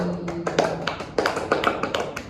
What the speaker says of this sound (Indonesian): Kita beri aplaus dulu untuk kelas ini.